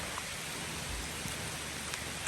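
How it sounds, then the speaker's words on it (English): Heavy rain pours down on the course of a 100-mile trail race, a dense, steady hiss of drops close around, with a few faint taps standing out and no voices. "Rain's really coming down."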